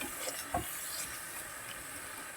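Meat filling for bourek cooks in a pan with a soft, even sizzle and a faint scrape or two, quiet and continuous with no talk.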